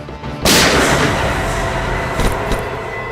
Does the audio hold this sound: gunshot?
yes